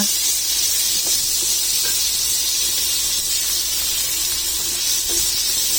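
Cabbage sautés with garlic, onion and chicken in a pan, giving off a loud, steady frying hiss that runs unbroken, with faint pops here and there.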